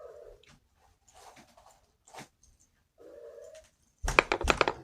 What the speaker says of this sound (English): This kitty's going through some hardcore fucking heat.